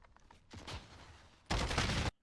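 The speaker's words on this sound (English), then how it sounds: "mid-air jumping with an Uzi, he again misses no shot" Short, sharp bursts of Uzi submachine gun fire in the shooter game Warzone, a quieter spray followed by a louder, dense burst that cuts off abruptly.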